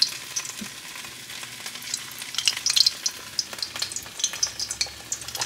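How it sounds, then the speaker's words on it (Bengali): Ash gourd slices coated in gram flour batter fry in hot oil with a steady close sizzle and crackle, bright spitting pops rising as pieces settle in, with no voices. "ওইদিকে তেল গরম হয়ে গেছে, এবার তেলের মধ্যে এগুলো ছেড়ে দেবো।"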